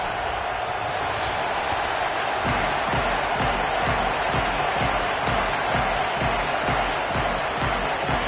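A home crowd roars steadily as the Trojans line up for the season-opening football kickoff, with a dense wash of cheering and low rhythmic thumps running beneath it.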